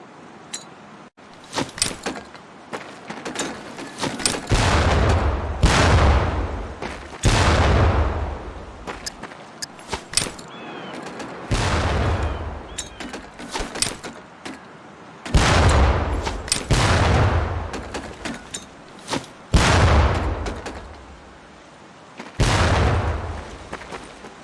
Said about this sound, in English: Pull the pin and let them fly. See if you can hit some of those barrels out there.